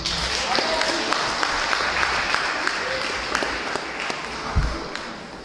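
Steady applause from an audience at a Paris world-cuisine cooking competition awards ceremony, dense and sustained with scattered sharper claps, a faint voice in the background.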